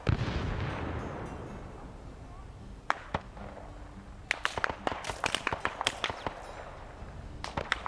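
Scattered gunfire in the Vietnam War video game SOG Prairie Fire: a few isolated shots early on, then a dense flurry of sharp cracks of varying loudness near the end, with no talk over them.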